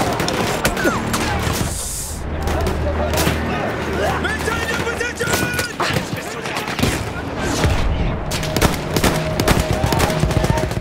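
Rapid Battlefield 1 gunfire, single shots and bursts cracking steadily through combat with booms and crashes in the mix, under intermittent voices.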